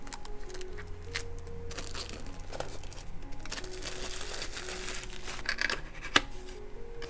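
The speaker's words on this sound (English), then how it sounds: "This plastic is always the bane of my existence to cut." Plastic wrapping being cut and pulled off a new notebook during an unboxing: close crinkling and rustling plastic with snips and tearing, ending in a sharper crackle near the end.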